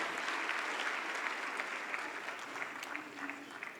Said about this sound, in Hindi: वो है तालियों की गड़गड़ाहट